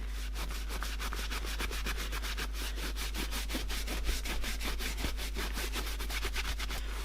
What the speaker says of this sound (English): I'm just going to give it a buff with the same cloth.